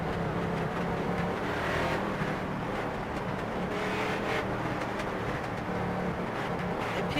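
Race cars in a racing video game lap the virtual Five Flags Speedway in a Jr Late Model event, a steady, dense engine roar that holds at a constant level throughout with no break.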